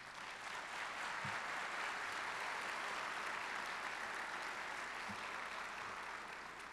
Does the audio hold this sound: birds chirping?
no